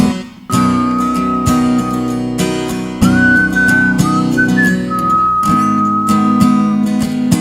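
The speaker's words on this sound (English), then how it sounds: "I really like the sound of my whistling in these." A melodic whistled tune carried over steady instrumental backing, the whistle sustained and clear, rising and falling across several phrases.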